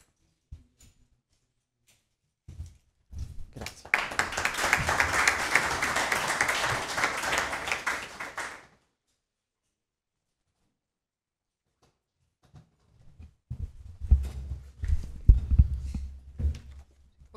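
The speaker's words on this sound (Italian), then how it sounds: "chiedo ancora una volta un applauso a queste associazioni" Audience applause at a Fontana Liri town council meeting: a sustained burst of clapping from a roomful of people lasting several seconds, then silence, followed by thumping handling noises.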